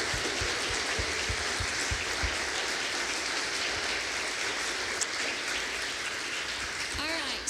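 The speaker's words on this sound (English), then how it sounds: "So can we give our kids another round of applause?" A church congregation claps for its children, dense, even applause at moderate distance that carries on steadily without pause.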